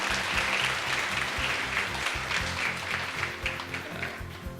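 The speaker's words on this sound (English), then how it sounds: "Give yourselves a round of applause." An audience at a mayor's public gathering claps in a loud, dense burst of applause that carries on steadily for several seconds, gradually thinning toward the end.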